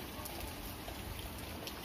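Steady summer rain falls at night as a soft, even hiss of countless drops, faint and continuous with no gaps or other sounds.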